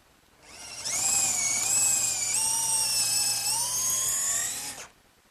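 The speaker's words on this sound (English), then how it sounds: "I have to enlarge this pilot hole I drilled earlier so the screw will just sit in there freely" A power drill fitted with a larger bit enlarges a pilot hole, a close, high whining drill tone that spins up, holds for about four seconds with slight pitch shifts under load, then winds down.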